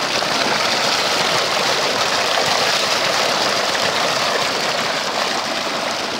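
Water from a village tubewell gushes steadily into a channel running toward the crops, a loud, unbroken broadband rush close by with no pauses and no voices.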